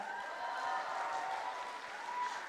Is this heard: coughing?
no